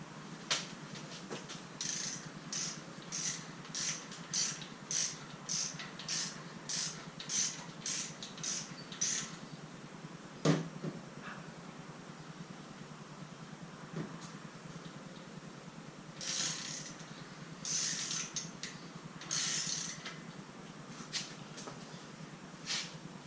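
Wheel nuts being tightened down over wheel spacers on a car hub, a run of quick metallic ratcheting clicks in regular bursts, a sharp knock near the middle, then more ratchet bursts, close and alone without talk.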